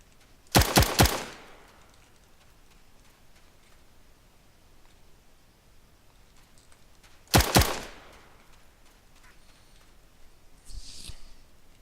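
Rifle fire in the video game Arma 3 during close-quarters training, two tight bursts of three or four rapid shots several seconds apart, loud and close against a quiet background, with a fainter clatter near the end.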